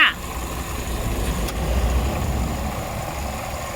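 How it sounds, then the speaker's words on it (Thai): A Chevrolet Sonic's engine idling with a noisy AC compressor adding a heavier rumbling, droning layer on top, steady and close, the low throb swelling slightly midway. "ตัวคอมแอร์ด้านล่างมีเสียงดังนะคะ"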